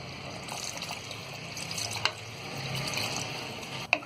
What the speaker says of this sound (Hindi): पानी हम यहाँ आधा गिलास डालेंगे।